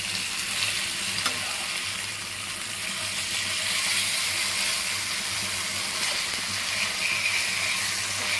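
Fish fries on a tawa in oil with a steady, close, loud sizzle that holds without pause, with no voices over it.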